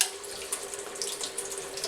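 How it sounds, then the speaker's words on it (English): Cold tap water runs in a steady, close splashing stream over the lid of a pressure cooker at a sink, with small irregular spatters and no talking. "I'm just going to run this cold water over the top"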